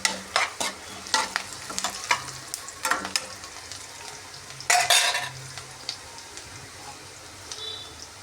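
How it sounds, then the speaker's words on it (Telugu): Mustard seeds frying in a pan for a home-cooked green leaf stir-fry, with soft continuous sizzling broken by several sharp crackles and pops, plus a few stirring scrapes against the pan, close and moderately loud without talk. "ఫ్రై చేసుకున్నా కదా ఆవాలు కొంచెం"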